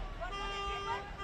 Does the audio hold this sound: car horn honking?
yes